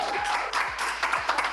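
Live esports crowd at a Clash of Clans Challenge Finals event applauding, a steady, loud wash of clapping and crowd noise filling the whole short stretch.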